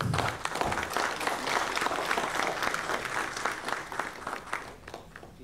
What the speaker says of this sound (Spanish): para quien le pedimos un fuerte aplauso